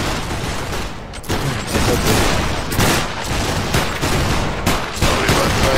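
Musket volleys crackle in the video game Battle Grounds III, dense overlapping gunfire bursts in rapid succession at close to middle distance, loud and sustained across the whole stretch.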